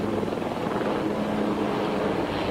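Helicopter flying aerobatic manoeuvres at the 1993 Biggin Hill International Air Fair, its rotor producing a loud, steady thudding drone that holds throughout without any talk.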